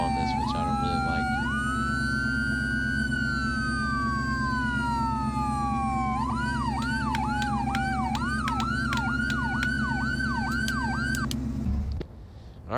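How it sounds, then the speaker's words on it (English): A fire rescue truck siren in Farming Simulator 2015 wails loudly in long rising and falling sweeps, then switches to a fast repeating yelp over a steady engine hum before cutting off abruptly near the end. "Fire Rescue, I think. I added the siren on there."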